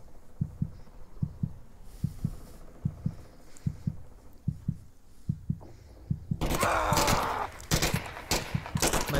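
Gunfire in a virtual reality shooter game, first as a steady train of muffled low thumps, then a sudden burst of loud, dense rapid shots and crackling impacts close by, with no talk.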